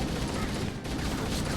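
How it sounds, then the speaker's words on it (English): Sustained assault rifle fire from Halo: Combat Evolved, a dense continuous burst of rapid shots filling the mix with only a brief dip, with faint voices underneath. "Hose these guys down with the assault rifle."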